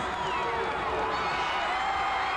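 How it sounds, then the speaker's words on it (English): Wrestling arena crowd roaring and cheering continuously during a match, a dense steady wash of voices throughout with commentary talk over it. "The crowd responds."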